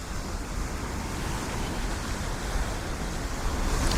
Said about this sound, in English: only the sound of the waves to contend with